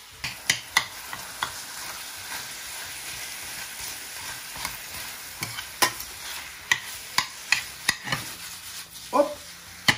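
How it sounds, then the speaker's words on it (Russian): Minced pork and beef frying with onion in a pan for lasagna bolognese, a steady soft sizzle broken by regular sharp scrapes and taps of a utensil stirring against the pan, close and clear, with no talk. "Отправляем наш свино-говяжий фарш к луку."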